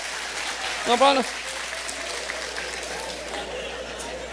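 An audience at a church sermon claps in a steady, moderate wash while someone briefly speaks over it near the start, and the clapping carries on behind him.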